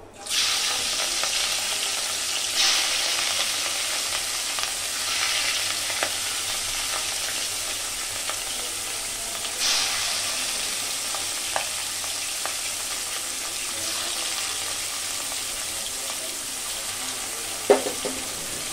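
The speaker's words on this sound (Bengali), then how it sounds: "আমি মাছগুলোকে হলুদের গুঁড়ো দিয়ে মেখে নিয়েছি, এখন ভেজে নিব" Turmeric-coated fish pieces frying in a pan, a dense continuous sizzle lasting many seconds with occasional light clinks and scrapes as the pieces are moved apart, no speech.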